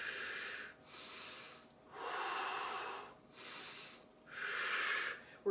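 Slow, deep breaths during a seated chair yoga stretch, with five long airy inhales and exhales in a steady rhythm, close and clear with no talking.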